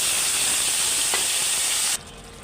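Loud, steady sizzling and hiss of yogurt, nut paste, biryani spice, ginger-garlic and salt hitting a hot pan with fried onions for chicken biryani, then dropping abruptly to a quieter sizzle.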